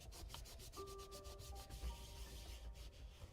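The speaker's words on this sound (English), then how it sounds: "You need to rub it evenly." The back of a linocut print is rubbed by hand through a sweater, a soft, close, steady scrubbing with quick repeated strokes, faint and alone.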